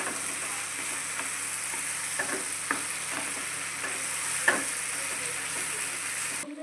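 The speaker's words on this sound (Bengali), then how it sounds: "এটার মধ্যে ফুলকপিটাকে অ্যাড করে দিতে হবে। আর এটাকে ভালোভাবে কষিয়ে নিতে হবে।" Cauliflower sautés in a pan for aloo gobi with a steady close sizzle, broken by scattered light ticks and scrapes from stirring, and no voices.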